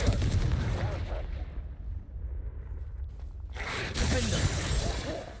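Confringo blasting curse spell effects in Hogwarts Legacy, a burst of crackling, clattering impacts, a brief lull, then another loud explosive rush of debris and rumble, with game sounds layered throughout.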